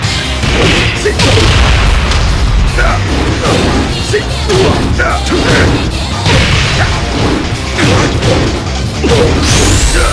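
Fighting-game combat from Tekken 6, Jin Kazama against Raven on hard mode: a dense, loud barrage of punches, kicks, booming impacts and swooshes with scarcely a pause.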